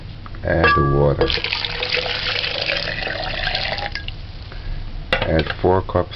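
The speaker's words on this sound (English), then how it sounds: "Add the water." Water pours into a blender jar holding cut bananas for banana porridge, a splashing, trickling stream running for a few seconds amid kitchen clatter, with a person talking before and after the pour.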